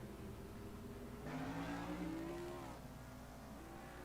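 Race car engines in a racing video game at New Hampshire: a faint, steady engine drone with a brief rising whine near the middle as a car revs past, with no voices.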